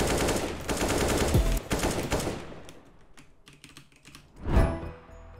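Rapid bursts of CS:GO gunfire on the Dust II map crackle loudly for a couple of seconds, fade into scattered shots, then one more sharp burst rings out near the end.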